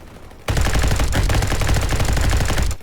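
Rapid automatic gunfire in a Roblox Call of Duty-style video game, one loud, dense, sustained burst of close shots lasting about two seconds before cutting off.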